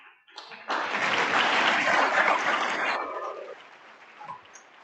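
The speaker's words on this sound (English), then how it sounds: "They are well worth the applause, I promise." In an evening lecture hall at Crystal Bridges, a burst of audience applause rises suddenly, holds as a dense wash for about two seconds, then thins out into quiet room noise.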